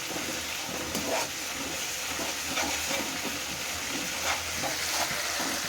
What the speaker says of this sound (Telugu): అల్లం ఎల్లిగడ్డ మంచిగా ఫ్రై అయిపోతుంది